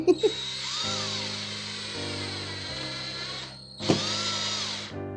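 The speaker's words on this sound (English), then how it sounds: "I be drilling these holes. Keep playing. Right through the frame." A power drill whines steadily, its pitch stepping up and down as it bites through a frame while hanging ceiling acoustic panels, with a short pause before it spins up again.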